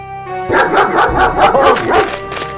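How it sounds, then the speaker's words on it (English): A dog barks in a loud, close burst, several rapid yappy barks in a row with brief whining yips between them, standing out over a faint musical background. "Oh, the dog."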